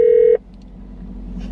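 A steady loud phone keypad tone holds for about a third of a second, then cuts off, leaving a low room hum with faint background activity.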